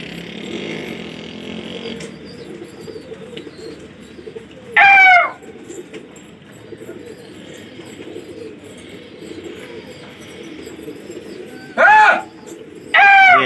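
Pigeons cooing and calling in an outdoor flock of racing pigeons, with a steady bed of ambient chatter and a few louder, sharp bird calls standing out briefly near and then again toward the end.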